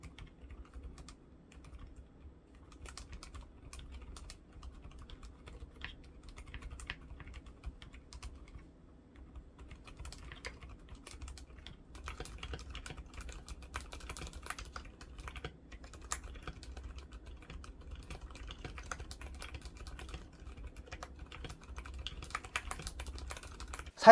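Soft, muted typing on an Mstone Groove T keyboard with silent Coral 45g switches, a continuous fast patter of quiet keystrokes close up with no talking.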